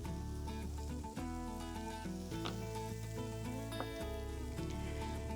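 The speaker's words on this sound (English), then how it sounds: "I'm gonna put a little bit more veggie oil on the other side and then flip it over" A grilled cherry pie calzone fries in vegetable oil on the grill, giving a steady dense sizzle and crackle with a faint low hum beneath, continuous and close up, with no talking.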